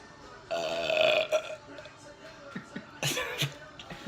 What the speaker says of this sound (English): and here's a burp